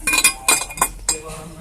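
Several sharp clinks of ceramic dishware being set down and knocked together, close up, in quick separate bursts.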